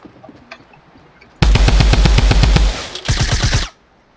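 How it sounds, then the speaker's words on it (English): A suppressed SMG fires from the hip in Fortnite, two loud rapid automatic bursts, a long one and then a shorter one after a brief gap, with no voice over the shots. "But the suppressed SMG, let's compare the hip fire."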